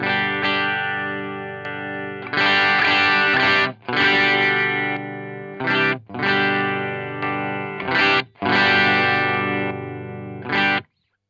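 Electric guitar through an Origin Effects RevivalDRIVE overdrive pedal on its US voicing plays distorted chords in repeated strums, each ringing out before short gaps, loud and gritty.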